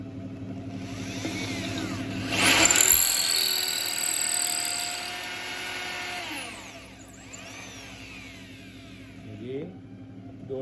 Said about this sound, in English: Clear your drill bit every time when you're drilling.